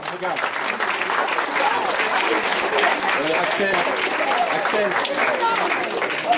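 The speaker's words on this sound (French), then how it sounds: "Allez, on les applaudit très fort." Loud, steady applause and crowd noise at a Corsican chess championship, honoring a team, dense continuous clapping with voices mixed in throughout.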